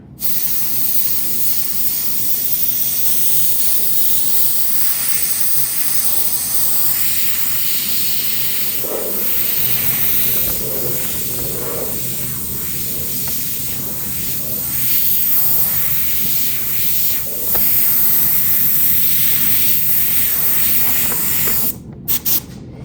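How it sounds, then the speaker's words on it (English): An airbrush sprays paint onto a Harley-Davidson Shovelhead chopper in a hot-rod paint job, giving a loud, steady hiss that runs almost without a break and ends with a few short bursts. "It's a little tough for me to airbrush around the camera."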